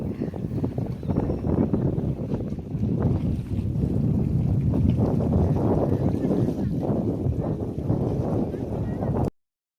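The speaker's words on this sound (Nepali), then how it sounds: "त्यहाँ पुगिसकेपछि चाहिँ एकदम हावा चल्दै थियो" Strong, steady wind roars and buffets the microphone outdoors at Rara Lake, a continuous low rumble that cuts off abruptly at the end.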